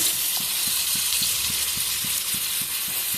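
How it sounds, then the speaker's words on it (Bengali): Paneer in a pan with cumin powder and salt, stirred over a steady frying hiss, with soft spoon scrapes ticking against the pan in a regular rhythm, close and moderately loud. "দিয়ে একটু নাড়াচাড়া করে নিচ্ছি।"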